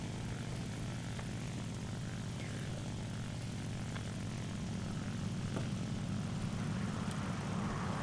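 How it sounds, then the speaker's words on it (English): Propeller fighter engines from a flight combat video game, a continuous droning roar held at an even, moderate level with no voices. "There's another P-60, or no, there's a P-39 chasing a P-38"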